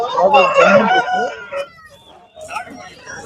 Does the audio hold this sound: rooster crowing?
yes